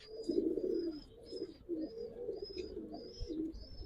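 Giribaz and coloring pigeons at a pigeon farm coo in soft, repeated low calls, close by, with faint higher chirps overhead and no talk.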